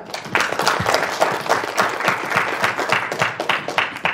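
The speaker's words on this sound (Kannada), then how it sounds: "ಒಂದು ಜೋರಾದ ಚಪ್ಪಾಳೆ ಬರಬೇಕು ಫಾರ್ ಆಲ್ ದ ರಿಷೀಸ್" An audience claps loudly and steadily for a few seconds, a dense continuous round of applause from a crowd at a talk.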